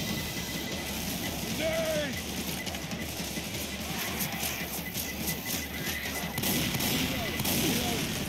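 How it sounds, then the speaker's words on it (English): Gunfire and explosive blasts from a zombie shooter game, Left 4 Dead 2, with a pipe bomb thrown into a horde; dense crackling shots and rumbling bursts run steadily throughout, loud and continuous. "Throwing a pipe bomb."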